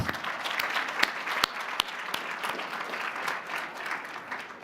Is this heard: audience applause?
yes